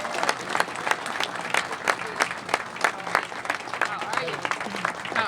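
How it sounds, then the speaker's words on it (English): A round of applause for Mayor Bowser at a fire engine company ribbon cutting: steady crowd clapping with distinct individual claps, moderately loud, with some voices mixed in. "Everyone would please give her a round of applause."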